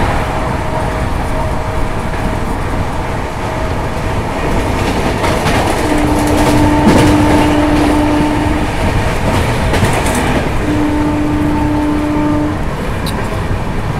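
The Howrah–Bengaluru Superfast Express rushes along at speed at night, heard from inside a general coach as a loud, steady rumble with rhythmic clickety-clack of wheels over rail joints and occasional high whistling tones.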